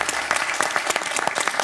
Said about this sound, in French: Bravo pour votre sportivité, parce que je vous vois applaudir chaleureusement Jean-Marc.